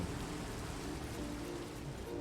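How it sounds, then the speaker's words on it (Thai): Steady rain falls in Minecraft 1.19, a dense, even hiss of drops that continues unbroken and fairly close throughout, with no voices. "อาฝนตกอีก"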